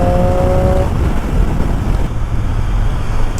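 Triumph Street Triple 765 RS motorcycle engine, a loud close rumbling drone with a brief higher tone early on, then a steadier low idle-like growl with wind noise.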